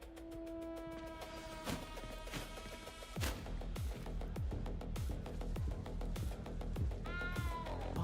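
A frightened cat meowing in the video game Hogwarts Legacy, several short plaintive meows set against a steady rhythmic ticking music bed, faint and mixed under the game's score.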